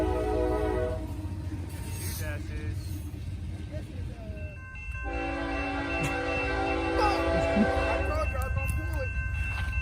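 A CSX freight train led by a pair of Dash 8 locomotives sounds its horn in two long chords, the second held for several seconds, over a steady loud rumble of the passing train while someone talks.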